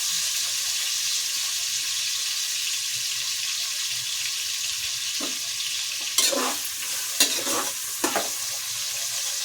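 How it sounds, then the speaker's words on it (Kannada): Onions frying in oil for tomato biryani, a steady bright hiss of sizzling broken by several sharp scraping stirs toward the end, close and fairly loud. "ಈರುಳ್ಳಿ ಎಲ್ಲ ಚೆನ್ನಾಗಿ ಫ್ರೈ ಆಗಲಿ"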